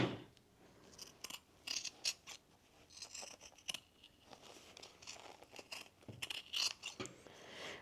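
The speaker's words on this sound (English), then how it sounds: "I'm gonna cut here and then cut a bigger tab to turn it around like that." Scissors snip through fabric scraps while trimming a small fabric heart, giving a run of crisp, close cuts in irregular bursts, with faint rustling of cloth between the snips.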